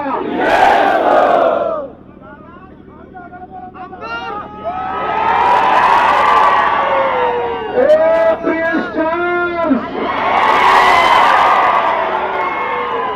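Huge crowd at a political rally roaring and chanting in loud surging waves, swelling slogans and cheers separated by a quieter stretch where a leader's amplified call leads the chant.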